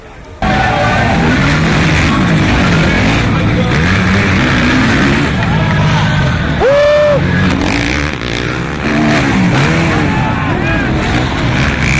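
Motorcycles racing at the opening round of a national motorcycle championship, engines roaring loudly and continuously with rising and falling revs as bikes pass, under a commentator's voice.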